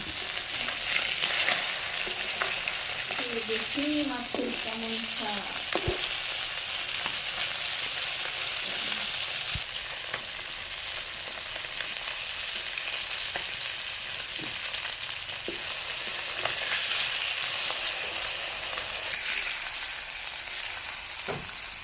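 Fish frying in oil, a steady dense sizzle running throughout with occasional clinks and stirring knocks, close and fairly loud with no talking.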